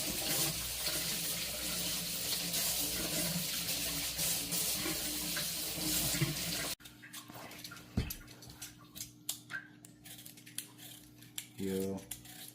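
Tap water runs steadily into a sink while potatoes and carrots are washed, a broad continuous wash that cuts off abruptly, followed by quieter handling clatter and a brief low hum near the end.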